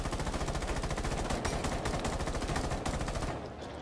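Sustained machine-gun fire from Rainbow Six Siege rattles in fast, even bursts, loud and close, with a brief drop near the end.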